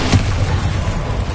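A Bombarda blasting spell detonates in Hogwarts Legacy, giving a short, loud, close boom with a dense low rumble that holds steady through a busy game mix.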